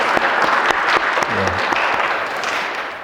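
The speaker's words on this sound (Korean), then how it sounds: "우리 박수로 한번 환영하도록 하겠습니다." A church congregation applauds to welcome a visiting member who has come from far away, a burst of close, dense clapping that tapers off, with a voice briefly heard beneath it.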